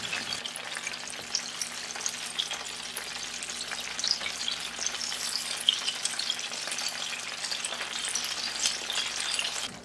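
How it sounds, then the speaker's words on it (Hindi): Chicken pieces get their first fry in hot oil for Korean fried chicken, sizzling and bubbling steadily up close with no talking. "फर्स्ट फ्राई हम 6 to 8 मिनट करेंगे।"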